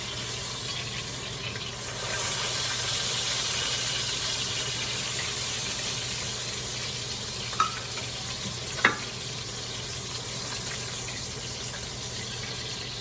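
Pork chops browning in a skillet give off a steady, even sizzle of frying meat that carries on without a break, with a couple of sharp clinks partway through and no voices.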